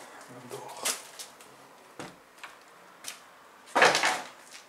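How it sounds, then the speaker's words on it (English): An old door inside a neglected kitchen of a small castle being opened, giving a few soft scraping creaks and knocks, with quiet background noise and no clear talk. "A door."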